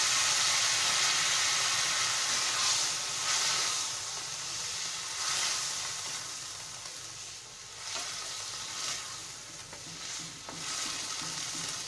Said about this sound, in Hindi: अब इस स्टेज पे उबला हुआ चना डाल